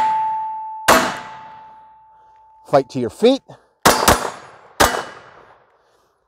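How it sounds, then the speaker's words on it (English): Loud gunshots during armed-citizen training crack one at a time, several striking a steel target that rings with a lingering metallic tone; someone shouts commands between shots. "if you can't hear that little piece of steel, it's a ringing"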